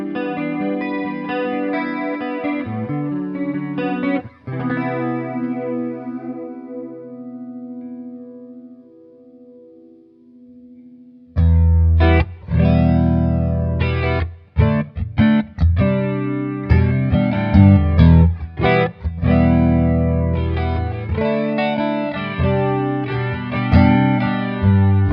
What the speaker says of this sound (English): a simple 4-knob analog flanger like the BF2 is all you actually need to create chorus, phaser, univibe, vibrato